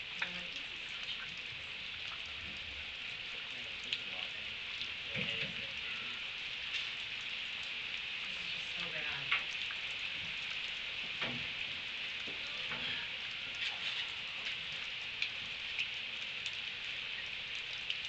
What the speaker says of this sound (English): Do you want to go out, Flossie, in the rain?